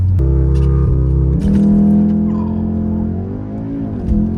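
A car fitted with an aftermarket Milltek exhaust revs hard for a launch-control start, a loud droning engine note rising and shifting with a brief tire chirp, close and continuous.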